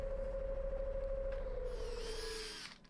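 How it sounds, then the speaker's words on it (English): A sycamore live-edge wood platter spins on a lathe while being sanded, a steady close hum running through the whole stretch with a brighter rising whir in the second half before it eases off at the end. "So on to the sanding."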